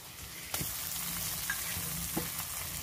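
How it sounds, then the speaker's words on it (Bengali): Garlic paste and dried chillies fry in oil for a papaya duck curry, giving a soft, steady sizzle close by, with a few sharp stirring knocks against the pan and no voices. "রসুন বাটা দিয়ে দেব, রসুন শুকনো মরিচ একসঙ্গে দিয়ে দেব"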